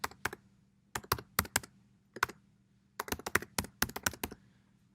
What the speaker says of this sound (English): we can go back to this login page and type in our login.